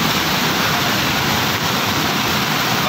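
The flooded Patalganga river, swollen past its danger level after heavy rain, rushes in a loud, constant roar of churning water close by, with no voices heard.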